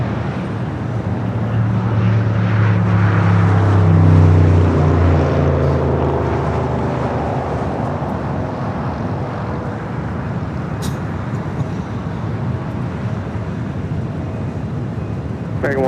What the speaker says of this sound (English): Hawaiian Flight 810 coming in from Honolulu